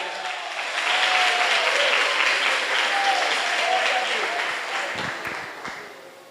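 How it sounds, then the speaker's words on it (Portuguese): A church congregation applauds during a Sunday morning worship service, a dense, loud wash of many hands clapping that swells early, holds steady and slowly fades, with a few faint tones above it. "Aplauda Jesus de Nazaré."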